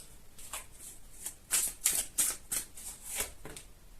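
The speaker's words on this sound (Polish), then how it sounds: "A ja już przechodzę do tasowania kart i do czytania." Tarot cards are shuffled repeatedly, with a series of crisp riffling bursts in a steady rhythm, close and fairly loud, with no talking.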